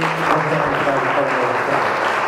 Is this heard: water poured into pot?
no